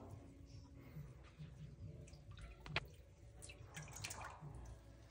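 Monkey washing itself under dripping water, with faint irregular drips and light splashes close by, one sharper plip standing out midway.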